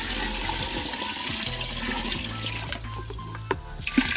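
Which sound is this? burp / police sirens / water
water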